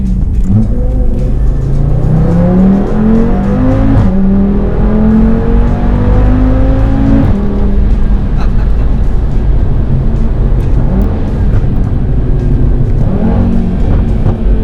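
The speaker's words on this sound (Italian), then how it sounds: "Per non parlare del sound del motore." A powerful five-cylinder turbo engine in a 500hp ABT-tuned Audi TT RS-R revs hard over and over, its pitch climbing in repeated sweeps with a deep, loud, close-up growl.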